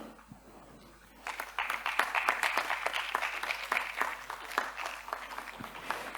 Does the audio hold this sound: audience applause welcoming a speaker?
yes